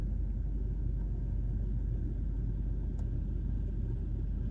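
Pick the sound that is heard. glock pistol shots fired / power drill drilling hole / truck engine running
truck engine running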